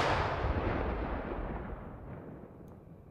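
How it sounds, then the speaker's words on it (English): Layered artillery gunshot sound effect built for a war ambience: a loud, broad blast that opens the clip and then rolls off into a long decaying tail, with no voices present. "so that's 8 shots there, and I've made multiple versions of this"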